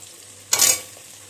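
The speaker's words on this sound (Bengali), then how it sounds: "রসুন কুচিটা দেওয়ার পরে একটু ভেজে নিতে হবে" Chopped garlic hits hot oil with a sudden loud burst of sizzle that flares for a moment and then fades back to a low background hiss.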